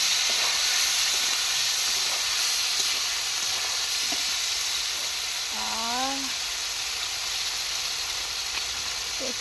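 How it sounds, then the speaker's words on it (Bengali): Fried potatoes sizzle steadily in a pan with onion, ginger and garlic paste, a loud continuous frying hiss throughout, with a brief tonal whistle near the middle. "পেঁয়াজ আদা রসুন বাটা আছে গরম মশলাও বাটা আছে আর আলুটা কষিয়ে নেব"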